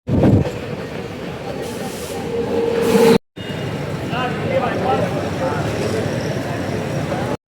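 Mumbai suburban local train arriving at platform 3 at Kalyan station, a steady rumble of the rail cars with busy station noise, a brief cut midway, then continued train and platform sound.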